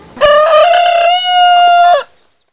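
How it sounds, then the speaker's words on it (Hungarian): A rooster crows once at dawn in a remote forest homestead, a single long, loud, harmonic call lasting about two seconds, close and clear with no other sounds. "Hajnalonként kakas kukorékolásra ébrednek."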